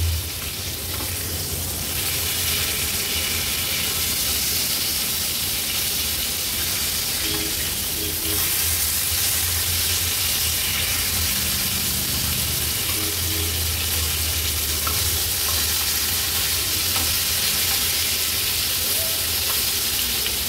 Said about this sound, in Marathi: तुम्ही बघू शकता अगदी व्यवस्थित ह्या तुकड्या आपल्या तळल्या गेल्या दोन्ही बाजूनी